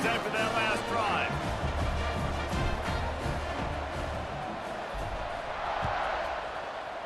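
A video-game stadium crowd in EA Sports College Football 26 roars steadily after a touchdown drive, a dense continuous wash of cheering and noise, loud and unbroken, with announcer commentary over it.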